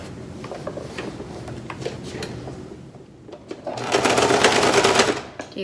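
A sewing machine stitches a handmade fabric mask from ties in short bursts of rapid mechanical whirring and clatter, pausing briefly before a louder, faster run near the end.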